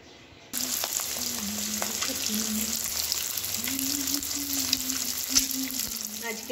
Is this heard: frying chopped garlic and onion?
yes